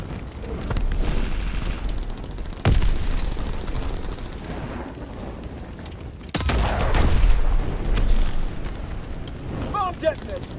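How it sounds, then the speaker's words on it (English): Call of Duty WWII battle in which a planted bomb detonates on an artillery gun, sharp booming blasts and bursts of gunfire over a constant roar of combat, with shouted voices in the mix. "Bomb detonated!"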